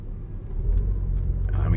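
A 2022 Toyota RAV4 Hybrid pulls away in beach sand at Oceano Dunes, its low engine rumble building steadily and close by over a short burst.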